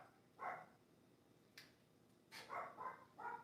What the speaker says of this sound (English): So that's my dog barking.